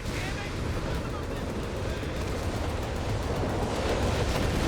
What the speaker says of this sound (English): Here comes a Nubelwerfer barrage. And those have a heck of an explosion radius, eh?